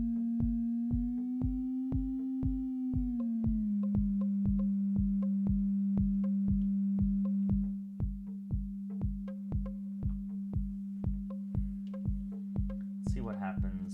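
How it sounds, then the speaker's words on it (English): A steady synthesizer sine tone hums continuously, its pitch gliding slightly before settling, with regular soft rhythmic pulses ticking alongside it throughout. "let's start with sine waves"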